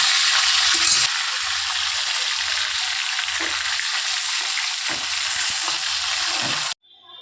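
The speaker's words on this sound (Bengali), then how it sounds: "ধরুন মাছগুলো সব ভাজা হয়ে গেছে" Small fish, sarputi (a kind of carp), frying in oil with a little turmeric in a wok, a steady loud sizzle with crackling and stirring clinks that cuts off abruptly near the end.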